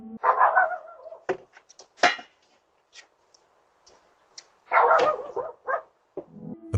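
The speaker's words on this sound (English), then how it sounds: "The moment the dogs inside began barking" Dogs bark inside a house behind a front door, several loud bursts of barking with short gaps between them, heard close and somewhat muffled, alongside faint ticking noises in the quiet stretches.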